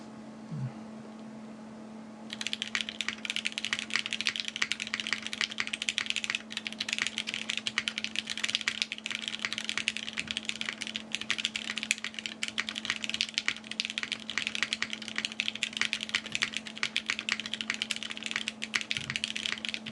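Steady, continuous typing on a VERTEX Angle mechanical keyboard starts after a short quiet hum, with a fast stream of close, crisp key clacks running without pause over a faint constant electrical hum.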